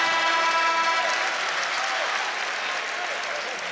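Loud, roaring applause and cheering from a Virginia Cavaliers home crowd at an ACC men's basketball game after a block, peaking at once and slowly easing off over a few seconds, with a commentator's voice beneath.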